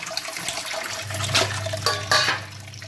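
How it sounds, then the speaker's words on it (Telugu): Water is poured over cut pandugappa fish pieces in a kitchen to rinse them, a steady close splashing and gushing stream with a couple of louder surges. "మళ్ళీ వాటర్ పోద్దాం."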